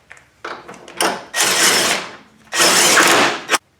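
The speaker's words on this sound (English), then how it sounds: "Now I'm going to go ahead and snug these up in my impact" An impact wrench snugs up polyethylene body mount bolts with two loud, close bursts of buzzing rattle, each about a second long, preceded by lighter clicks and handling noises.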